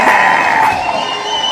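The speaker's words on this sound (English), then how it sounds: "let's give the beautiful CC a huge round of applause" Studio crowd sound effect of cheering and whooping applause, loud and steady for a brief burst, with bright excited voices mixed into the roar.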